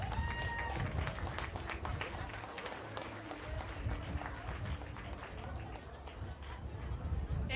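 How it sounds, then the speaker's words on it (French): A crowd applauds a student's arrival at a school ball, where he pulls up in a black-and-white Ford Explorer police vehicle. Clapping and cheering mix with crowd chatter and a voice talking over the noise. "Applaudissons Loïc Bignot."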